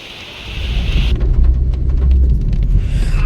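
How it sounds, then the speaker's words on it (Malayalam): Heavy monsoon rain drums on a moving vehicle during a drive on the Malakkapara route, a loud steady wash of downpour swelling after the first second with low road rumble beneath. "തോരാത്ത മഴ അപ്പോഴും പെരുകൊണ്ടിരിക്കുന്നുണ്ടായിരുന്നു."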